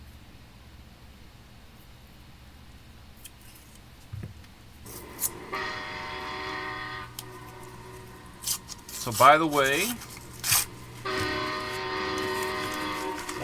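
A train passes by with rising rumble and clatter in bursts, its loud rolling noise swelling and dropping while a person talks over it midway.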